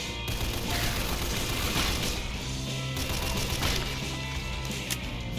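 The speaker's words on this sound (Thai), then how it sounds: "เฮ้ยเสียงระเบิด" Booming blasts and crackling bursts roll through a dense, noisy soundscape from the zombie shooter game Call of Mini Zombies 2, with heavier hits near the start and around the middle.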